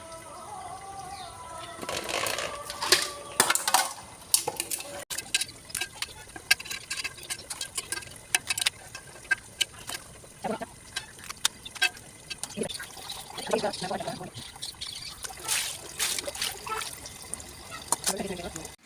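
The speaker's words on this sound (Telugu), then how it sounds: "ఈ రోజు అయితే వర్షం వచ్చేస్తుందండి" Rain starting to fall outdoors, a light, irregular patter and trickle of drops going on throughout, with people talking over it.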